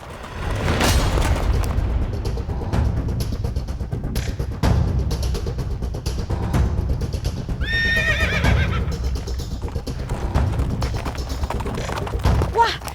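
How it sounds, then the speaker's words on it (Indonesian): Riderless racehorse galloping on a race track, heavy hoofbeats and rumbling under a noisy crowd, with a loud whinny midway and continuous chatter throughout. "ini di belakang saya ada kuda lari sendiri nih, tampaknya yang naikin tadi jatuh"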